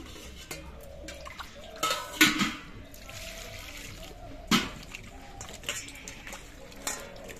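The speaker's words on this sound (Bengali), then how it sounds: "এবার শিম আর আলুগুলো ধুয়ে নিতে হবে।" Flat beans and quartered small potatoes being washed in water, giving scattered splashes and drips with a few sharper sloshes amid quiet pauses.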